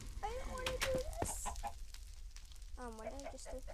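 Chickens cluck in a Minecraft puzzle map, with several clear, close bursts of clucking separated by short pauses and a few sharp clicks between them.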